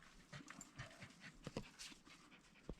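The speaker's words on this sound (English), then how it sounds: "There's wild dogs in here." Wild dogs pant in a quick uneven rhythm at close range, with soft breathy puffs and a few sharper bursts, no talking.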